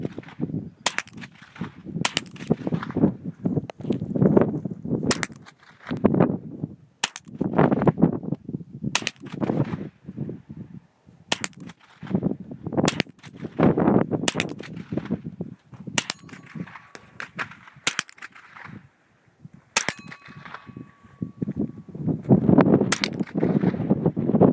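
Rifle gunshots at an Appleseed marksmanship shooting event ring out one after another in a steady, spaced series, sharp loud cracks with brief echoing tails over outdoor background noise.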